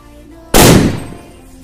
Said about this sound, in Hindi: अब हम टेस्ट करने वाले हैं इस वाले सोतेली बम को, तो देखते हैं कितना धमाका करता है।